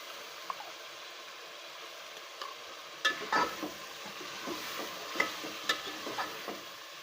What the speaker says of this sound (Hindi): हमें गोश्त को जो है इतना फ्राई करना है इसमें ऑयल में और प्याज अदरक लहसुन में